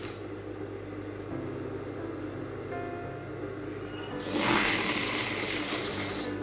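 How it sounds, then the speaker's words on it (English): A sewing machine stitching blouse fabric along curves, a steady close mechanical whir that speeds up into a louder, faster buzzing run toward the end, with no speech. "Follow the curves and sew on 1/2 inch."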